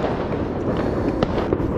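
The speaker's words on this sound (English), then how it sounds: "I don't know if you can hear it, but there's fireworks all around." New Year's Eve fireworks going off around London streets, a dense, continuous crackle of nearby and distant bursts with a few sharper pops standing out, loud and with no speech.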